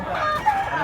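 A bullstag rooster, nine months old with white legs, crows in a brief drawn-out call, close and fairly loud over faint background noise.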